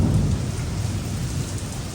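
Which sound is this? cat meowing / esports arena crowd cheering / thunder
thunder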